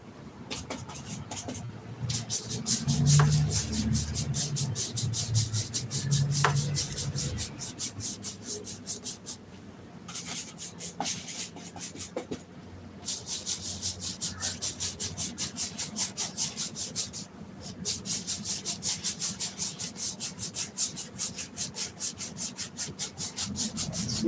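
A 1.5-inch brush loaded with oil paint scrubs across canvas in steady, close rhythmic strokes, with brief pauses between bursts of brushing.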